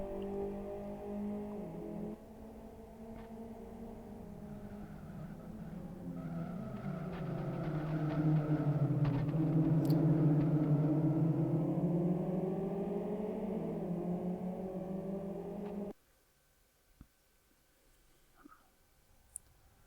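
Race cars in the video game Grid 2 roar through the big 16-lap final, a dense layered engine drone that swells and shifts with gear changes, then cuts away to near silence with a few faint clicks near the end.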